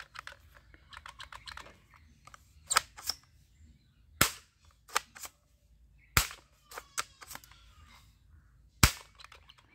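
A Spider-Man themed toy soft gun fires in a scatter of sharp, close snapping pops, a few loud and several lighter, with irregular gaps and some small plastic clicks in between.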